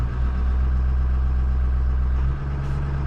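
A Ford 6.0 diesel engine idles steadily at about 1,000 rpm after a long-cranking cold start, a loud, constant low rumble with a faint brief dip near the end.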